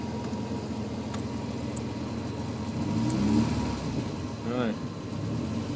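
A fuel-injected Triumph Spitfire 1500 engine running steadily at a low, fairly loud hum, rising briefly as it revs, with voices talking over it.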